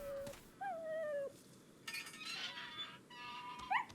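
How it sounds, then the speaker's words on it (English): A dog whimpers and whines in high, thin tones in Resident Evil 4, Wii Edition, with a few short falling cries that stand out over quiet game ambience and light clinking. "Oh yeah, the dog that you save."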